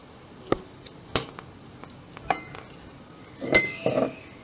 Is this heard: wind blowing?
no